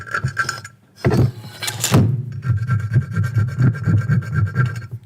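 A round file rasping against a part during 4L60E transmission assembly, rhythmic back-and-forth strokes close up and loud, with a brief pause before the filing resumes steadily.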